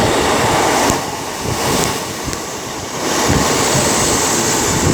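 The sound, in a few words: train 156405 coming into Derby station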